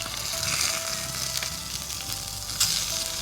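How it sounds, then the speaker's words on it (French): Steak sears in a frying pan at a winter campsite in -20°C cold, a steady close hiss and crackle of fat with a few louder pops. "Bien appuyé sur le steak pour être certain que toutes les surfaces touchent la poêle."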